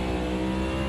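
A race car engine in a sim racing game drones at high revs as the throttle lifts, a brief continuous tonal roar with no talk.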